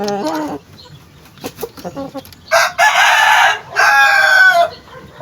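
A large rooster lets out two loud, close crows in succession, following some brief clucking and a short voice at the start; a farmyard flock setting with chickens nearby.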